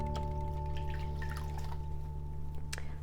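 Water splashes and drips while papaya scrub is rinsed off a face, faint irregular trickles and splashes over a steady low electrical hum, close by.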